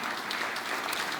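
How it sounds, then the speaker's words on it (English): A church congregation claps and applauds steadily, a dense unbroken patter of many hands filling the hall for a brief moment. "Why did we give a clap?"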